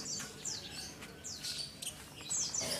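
A lovebird gives repeated quick, high chirps and tweets in short bursts, fairly close but soft, with no voices.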